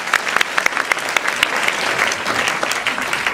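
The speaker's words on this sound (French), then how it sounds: "sur vos applaudissements" An audience at a quiz show breaks into brisk, dense applause, many hands clapping at close range, steady and loud for a few seconds.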